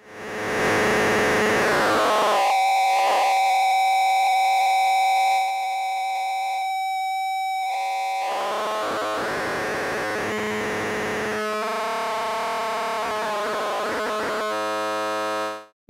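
Buzzy synthesizer tones from a modular synth oscillator through a filter, strong harmonics, drifting and sweeping in pitch, briefly cutting out, then returning with a warbling, rising filtered sound.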